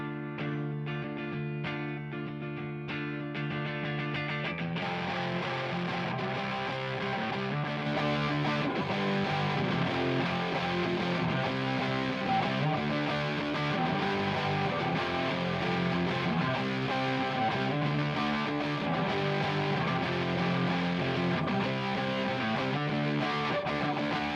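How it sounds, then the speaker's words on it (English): A loud, sustained electric guitar line with a gritty, overdriven tone plays over a full band groove leading into the chorus of a song, continuing steadily throughout. "Let's take a look at the lead guitar now coming up to the chorus."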